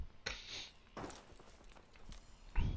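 Quick jumping footsteps from a player bunny hopping in a Call of Duty Vanguard 1v1 match, a few soft scuffing landings spread out, the last one louder and closer.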